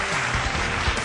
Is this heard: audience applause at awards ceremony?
yes